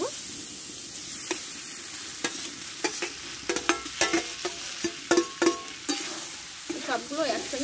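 Pumpkin, potato and green chilli stir-frying together in a pan: a soft sizzle beneath frequent sharp clacks and scrapes of a spatula, the strokes coming in irregular bursts.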